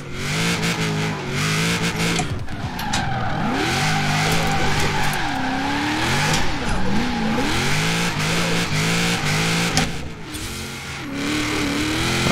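A car drifting and skidding in the racing video game Forza Horizon 4: loud, continuous engine revving with rising and falling pitch and sustained tire squeal, without a break for the whole stretch.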